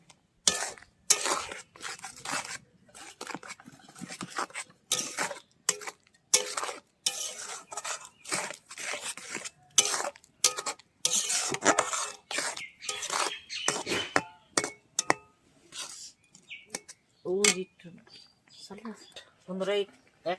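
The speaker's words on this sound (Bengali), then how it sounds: "নারকেল কোড়া দিয়ে আমি ভালো করে নেড়ে নেব।" Grated coconut filling for kuli pitha is stirred in a pan, a spatula scraping and clinking in quick irregular strokes close by, with a voice speaking between the strokes.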